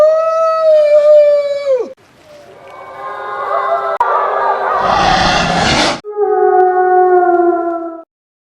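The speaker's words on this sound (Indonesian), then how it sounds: "Namun ternyata kawanan serigala itu membalas tantangan dari Diaz" A pack of wolves in an icy mountain setting howls loudly in long sustained tones, with one voice at first, then overlapping voices and a noisy burst, and a final steady chorus howl.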